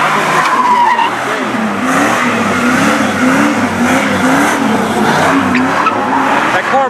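A car doing donuts at a street donut contest, tires squealing and skidding continuously as the engine revs in wavering pitch, loud and close throughout.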